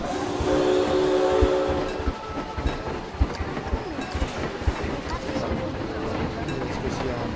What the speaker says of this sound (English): I think we should ride our train.